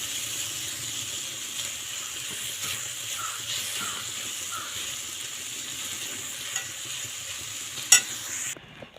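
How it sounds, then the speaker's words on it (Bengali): Radish stir-fry frying in a pan, a steady soft sizzle with faint stirring scrapes, a sharp clink near the end, heard alone without talk. "তো আরেকটু ভেজে নিলেই মোটামুটি আমার মূলো ভাজি রেসিপি হয়ে যাবে।"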